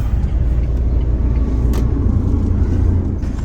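A car engine rumbles steadily and close by as the vehicle is maneuvered into a parking spot near a hillside temple in Karsog, a continuous low drone with no voices over it.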